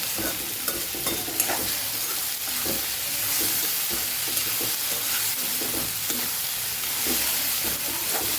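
Tomatoes sautéing in a pan for Kathiyavadi batata poha, a steady close sizzle with frequent stirring scrapes throughout and no talking.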